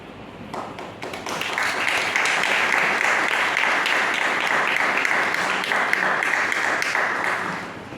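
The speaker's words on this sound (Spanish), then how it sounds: "Muchísimas gracias por los aplausos" A lecture audience on medieval history applauds at the end of a talk. The clapping is sustained and dense, rises quickly and holds steady for several seconds before tapering off.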